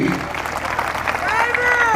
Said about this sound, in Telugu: ఒకసారి గట్టిగా చప్పట్లు కొట్టండి